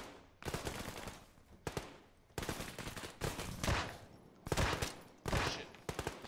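Bursts of close, loud video-game gunfire fired at a building window, several separate volleys of rapid shots with short gaps between them and no talk over them.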